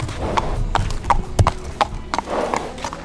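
Hooves from horses walking on a hard surface at an equestrian facility, clear and fairly close, with uneven clip-clop steps and a few sharp knocks and no talk.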